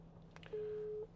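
A single steady electronic engaged tone sounds for about half a second through the Apple CarPlay system of a 2018 Land Rover Discovery, faint and thin over a quiet background hum.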